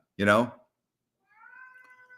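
A cat gives two meows, a loud wavering one near the start and a softer, thinner one after a short silence.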